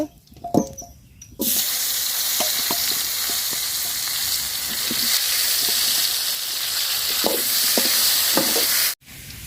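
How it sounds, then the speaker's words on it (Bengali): Potatoes frying in hot oil in a pan after fish, a steady loud sizzle that starts abruptly and holds, with occasional clinks of stirring and a brief quiet break near the end. "তো আলুগুলো আমি সুন্দর করে ভাজা নিচ্ছি,"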